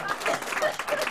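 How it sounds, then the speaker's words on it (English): Short burst of audience applause at a magic show, moderately loud scattered clapping throughout with crowd murmur mixed in. "Please, a round of applause"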